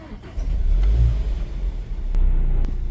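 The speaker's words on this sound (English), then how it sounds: "now we can start up the car and see how everything starts up with no check engine lights" A Land Rover engine turns over after a battery replacement and settles into a steady low rumble, close and moderately loud.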